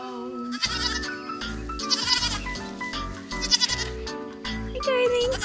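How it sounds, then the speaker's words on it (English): Goats bleating at close range on a farm, several loud, repeated, drawn-out calls overlapping one another, with no talk. "Hi, goats."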